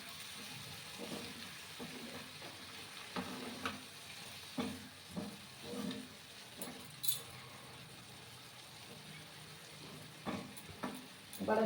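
Potatoes and peas with a little added water are sautéed in a pan, giving faint soft sizzling with intermittent stirring scrapes and clinks, quiet overall.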